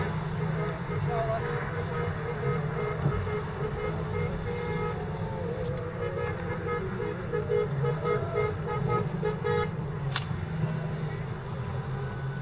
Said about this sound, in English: People honking in happiness.